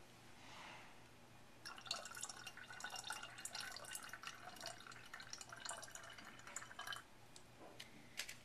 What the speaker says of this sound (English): Alright, now we're going to add the water